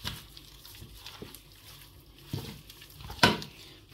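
Pakora batter of gram flour and cornflour is stirred and mixed in a bowl, with soft irregular wet slaps and scrapes and one louder clink near the end.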